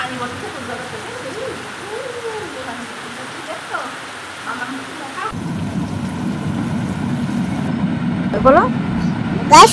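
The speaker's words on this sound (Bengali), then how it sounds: "বাইরে কত বৃষ্টি হচ্ছে" Steady rain hisses outside, with a low rumbling vehicle noise swelling in the second half.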